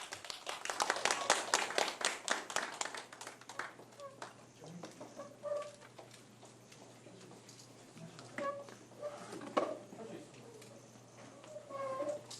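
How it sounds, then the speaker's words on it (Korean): Applause at a political press conference, a dense burst of clapping in the first few seconds that thins out into scattered claps and room noise. "모두 큰 박수 부탁드립니다"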